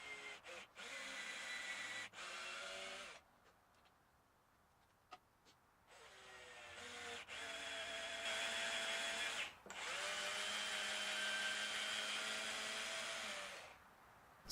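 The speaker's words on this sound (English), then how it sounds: "drill a path for the wires to get all the way from the pickup through the control cavity" A power drill whirs in several long bursts with short pauses between, its pitch rising and sagging as the bit bores through a wooden electric guitar body from the pickup to the control cavity.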